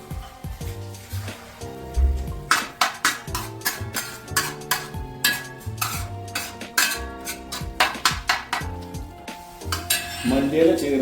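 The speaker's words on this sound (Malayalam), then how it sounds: "മല്ലിയില ചേർത്ത് 1 മിനിറ്റ് ഒന്ന് സോട്ട് ചെയ്തതിന് ശേഷം" Coriander leaves sautéed in a pan for tawa veg pulao, a quick series of metallic spatula scrapes and clinks against the pan over a soft sizzle, close and alone.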